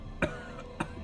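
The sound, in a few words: drunk man's hacking cough, from the video game Disco Elysium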